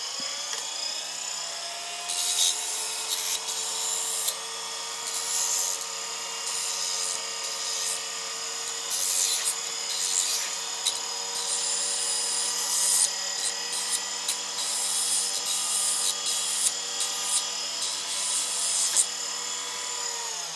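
A file rasps back and forth over the tip of a homemade lock pick to round it off, a series of short scraping strokes repeated in bursts close up, with no talk.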